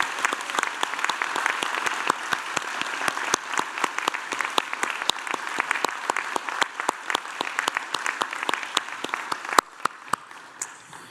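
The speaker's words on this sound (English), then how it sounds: "And I wonder if you'd all join me in applauding the wonderful achievements of these graduates." A large audience applauds university graduates at a graduation ceremony in Newcastle, Australia. The dense, sustained clapping carries on for about ten seconds, with sharp individual claps popping out, then trails off into a few last claps.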